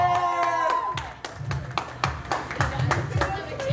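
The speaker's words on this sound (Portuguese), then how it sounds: "Pode bater palmas aí, pessoal." A group at a friend's surprise birthday celebration in São Paulo claps in a steady rhythmic beat, with repeated sharp claps continuing under a speaking voice.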